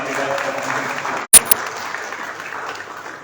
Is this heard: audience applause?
yes